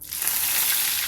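Green chilies hit hot oil with cumin seeds for tempering pohe, bursting into a loud, close, hissing sizzle that rises quickly and then holds steady.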